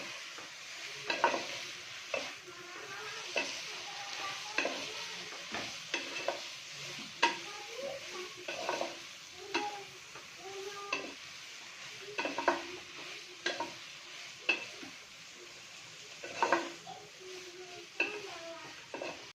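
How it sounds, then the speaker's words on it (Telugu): Chicken noodles mixed with sauces in a frying pan, stirred with repeated scraping strokes of a utensil against the pan over a soft continuous sizzle, fairly faint and close, with no voices. "మంచిగా మిక్స్ చేసుకుంటా."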